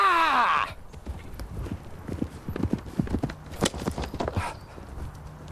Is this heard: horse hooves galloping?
yes